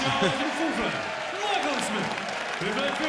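Crowd at a darts match between Taylor and Smith applauding steadily, with a voice talking over the clapping throughout.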